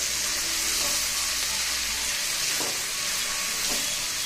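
Pre-boiled cauliflower pieces fry in a pan for a home-style cauliflower curry, giving a loud, steady sizzle throughout with a few soft stirring scrapes and no talking.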